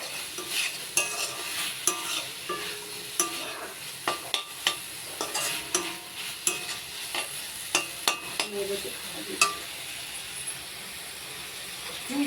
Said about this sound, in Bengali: আমি একটুখানি খুন্তিটা নাড়িয়ে দিই